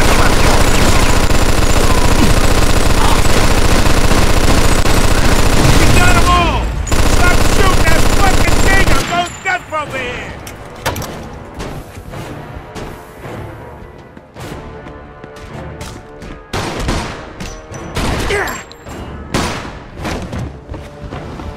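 Gunfire in the Mafia 2 video game, opening with a long dense roar of loud rapid shots and blasts, then after a sudden drop, scattered sharp bursts and thumps over quieter background.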